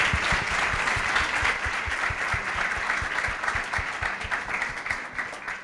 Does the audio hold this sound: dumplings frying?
no